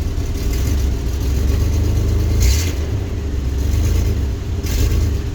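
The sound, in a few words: rough-running SUV engine with misfire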